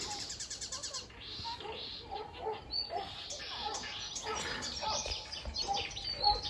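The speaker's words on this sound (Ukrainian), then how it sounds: "Пташки співають." Small birds chirp and twitter nearby in quick, repeated bursts on a sunny day on a riverbank, with outdoor background and faint voices mixed in.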